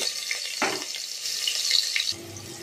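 Onion slices dropped into hot oil with two bay leaves and cloves, starting a sharp burst of sizzling that settles into a steady, close frying hiss before a softer tail.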